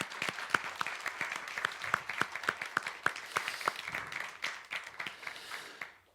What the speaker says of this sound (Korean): 다시 한번 우리 축하의 박수를 줬으면 좋겠습니다